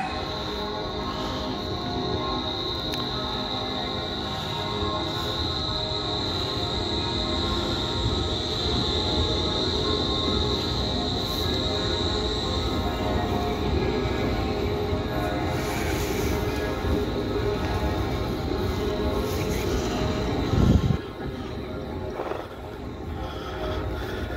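A Bernmobil tram runs through Bern with a steady, rolling rumble and a high whine, then one sharp clunk near the end.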